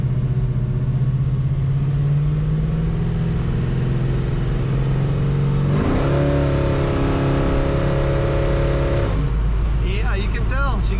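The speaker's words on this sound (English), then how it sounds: "She gets right up in the RPMs. Right in the power band when you're looking to accelerate." A 1967 Chevrolet Chevelle two-door hardtop engine revs hard as the car accelerates, a steady mid-pitched drone that climbs in pitch, steps up sharply around the middle, holds high, then drops off near the end, with faint talk underneath.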